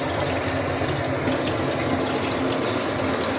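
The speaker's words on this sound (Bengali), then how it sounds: "একটু দেবো জল" Water poured into a cooking pot for a thin curry, a steady broadband splashing rush filling the whole moment at close range, with no talk.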